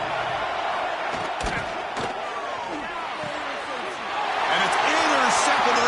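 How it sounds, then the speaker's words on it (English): Loud, sustained stadium crowd roar in the College Football 26 video game during a red zone defensive stand, swelling louder near the end with scattered thuds and cries over a commentator's voice. "And here comes the noise. This crowd is trying to inspire this defense to make a big red zone stop."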